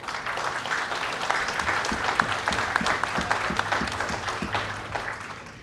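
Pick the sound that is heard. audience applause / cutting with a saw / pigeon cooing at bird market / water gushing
audience applause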